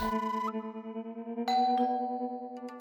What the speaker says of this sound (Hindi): मिस हवा हवाई, मुझे लगता है आपने सुना नहीं, डोरबेल बजी है।